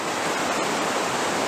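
Water rushes steadily below a high rock ledge about seven or eight feet up, a continuous even roar of broadband noise that fills the whole moment without any voices.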